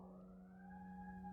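A siren wails steadily at a distance, its sustained tones rising slightly, heard faintly with no talking.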